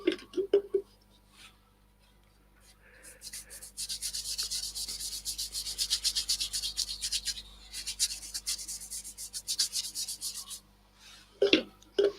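A cloth rubs wipe-on cellulose sanding sealer over wood in quick back-and-forth strokes, a soft, close, rhythmic hiss between quiet stretches with a few small knocks.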